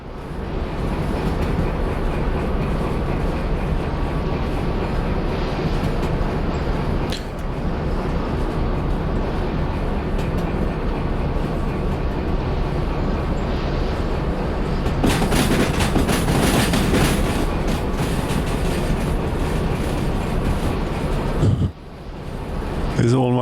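A train running on rails in the Derail Valley video game, a steady heavy rolling rumble that continues throughout, briefly dipping around seven seconds and cutting off sharply near the end.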